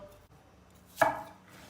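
A single sharp knife chop through a medium onion on a cutting board, close and crisp, standing alone after a quiet stretch, with a brief ringing tail.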